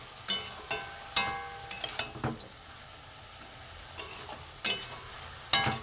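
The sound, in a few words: stirring spiced vegetables in a frying pan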